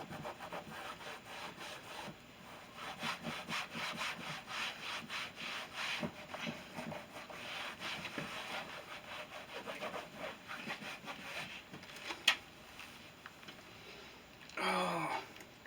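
A cloth dampened with rubbing alcohol rubs back and forth over the insert of a 2008 Mustang door panel, a quiet close scrubbing in rapid repeated strokes with a brief thump near the end.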